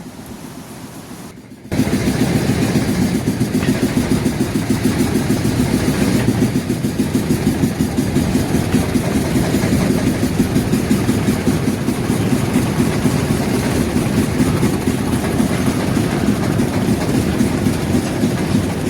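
A motor boat engine on the Ganges at Varanasi, nearing Manikarnika Ghat, runs as a loud, steady, throbbing drone. It starts after a brief quieter moment and continues evenly throughout with no talking.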